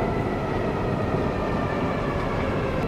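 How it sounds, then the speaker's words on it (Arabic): Driverless metro train running into a station in Istanbul, a steady close rumble of wheels and carriages on the rails with no talk over it. "درايفرلس مترو هون في اسطنبول. طبعا بيمشي لحاله بدون سائق."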